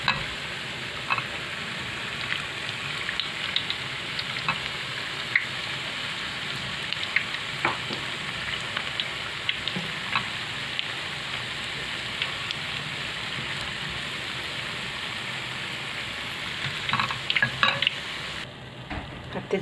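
Cauliflower pieces deep frying in oil, a steady rain-like crackling sizzle that holds for a long stretch with a few stirring clinks, close and even, no talk.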